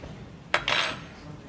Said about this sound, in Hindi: स्पून से मिक्स करते हैं